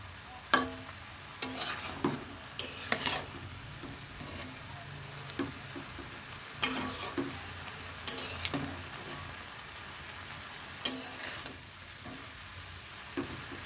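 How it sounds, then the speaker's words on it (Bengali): Cabbage curry frying in a pan with ghee and onion, stirred with a utensil: steady low sizzle throughout, broken by sharp scraping clatters of the spoon against the pan at irregular intervals, close and moderately loud, no talking. "সুন্দর করে একটুখানি কষিয়ে নেব।"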